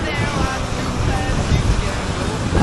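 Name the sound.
waterfall on a hike near Yosemite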